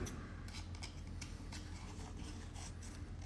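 Scissors snipping through paper at a desk during an architecture model workshop, a quiet series of light, rapid cuts over a steady low hum.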